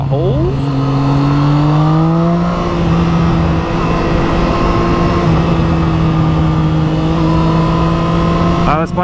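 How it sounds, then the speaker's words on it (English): Triumph Street Triple 675R motorcycle engine droning steadily while riding around Coeur d'Alene Lake, loud and close with wind rush, a rising pitch shift near the start and a quick rev at the end. "Oh, this bike is just so effortless."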